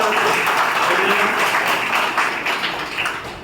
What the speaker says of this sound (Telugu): ఒకసారి చప్పట్లో గట్టిగా